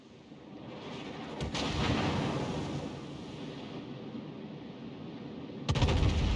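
Heavy naval gunfire from warships in World of Warships, a long rumbling barrage of deep booms building across the stretch, with a fresh salvo cracking out near the end; no talk over it.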